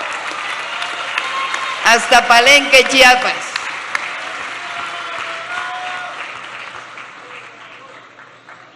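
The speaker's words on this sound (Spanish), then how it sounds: "que desde aquí le enviamos un aplauso" A crowd at a political rally in Paracho, Michoacán bursts into a short, loud round of applause with cheering for about a second and a half, while someone speaks over a public address before and after it.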